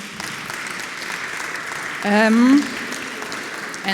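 Audience applause at an innovation conference as guests are invited on stage, a steady wash of clapping with a voice briefly speaking over it midway.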